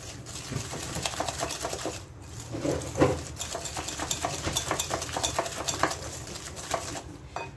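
A sweet dough mixture with vanilla is stirred in a bowl. Continuous close scraping and light clinking patter runs throughout at a steady, busy pace.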